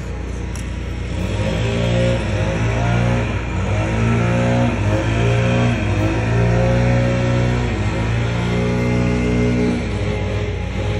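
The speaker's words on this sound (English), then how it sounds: "Somebody's actually mowing, or the grass or whatever." A motorized lawn mower cutting grass outside a house, its engine droning steadily and loudly with shifting tonal revs throughout, close by and continuous with no talking.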